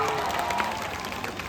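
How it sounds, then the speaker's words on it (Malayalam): Audience applause at a festival stage show during a DJ night: a dense wash of clapping from a crowd, steady and fairly loud through the short moment, with a faint voice mixed in. "ഒരു നല്ലൊരു കൈയടി ഒന്നുകൂടി."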